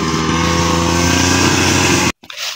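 A new grass cutter runs loudly and steadily close by, a continuous buzzing engine drone that cuts out abruptly near the end before faint noise resumes.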